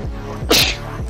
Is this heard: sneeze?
yes